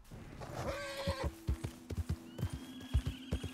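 Horse hooves clop in a steady, close rhythm in Red Dead Redemption 2, with a loud whinny near the start; the hoofbeats continue alone to the end.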